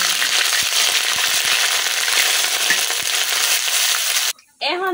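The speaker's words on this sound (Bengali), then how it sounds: "এখন আমি বাটা পেঁয়াজটা দিয়ে দেব।" Ground onion paste hitting hot oil in a karahi, giving a loud, steady, dense sizzle that runs unbroken for several seconds before cutting off abruptly near the end, followed by a brief quieter tail.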